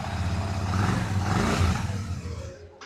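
A Royal Enfield Classic 650 motorcycle engine runs at a steady, moderate idle with a dense, rumbling mechanical tone that cuts off abruptly near the end. No talk is heard.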